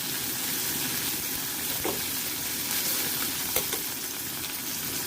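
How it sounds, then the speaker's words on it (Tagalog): Fatty pork sautéing in a pan, a steady, moderately loud sizzle and crackle with a couple of sharp pops and light stirring knocks. "ilagay na natin yung ating pork na may taba. At igisa lang din natin siya ng mabuti"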